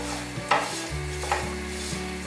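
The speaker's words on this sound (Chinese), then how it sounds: "把腰果放进来，用小火炒香腰果" Cashews are stirred in hot oil in a pan over low heat, giving a quiet steady sizzle with a couple of brief scraping stirs of the spatula, close and without talk.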